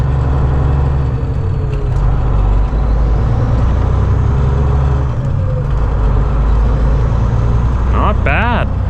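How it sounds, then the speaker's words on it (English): Semi truck driving away with its engine running, a deep steady diesel rumble and drone filling the cab, loud and close, with a brief squeal of higher tones near the end. "Dad's watching me drive his truck away"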